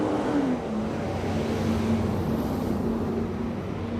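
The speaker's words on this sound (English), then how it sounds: "Truck." A truck rolls past on a street in Dearborn, a steady engine drone and tire rumble holding at moderate loudness throughout with no one speaking.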